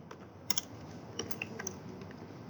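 Close computer keyboard typing as code is entered, a quick irregular patter of key clicks over soft background hiss, with no talking.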